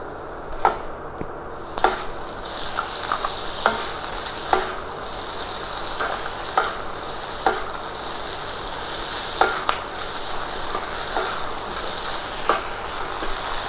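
Carrot, capsicum and cabbage stir-fry for fried rice, a steady close sizzle with repeated sharp clacks of a spatula against the pan every second or so, no talking.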